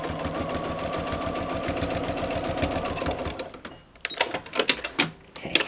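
Sewing machine running a steady basting stitch through lightweight sling fabric, a continuous close mechanical whir for about three seconds, then it stops and a few sharp clicks and handling taps follow.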